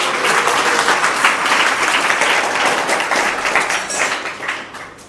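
A lecture audience bursts into sustained applause, dense and loud clapping from many hands that holds for several seconds before tapering off, with no talk over it.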